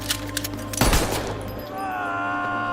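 A gunshot from a film scene in which a man is shot in the leg, one sharp loud burst followed by a ringing, droning tail over background music.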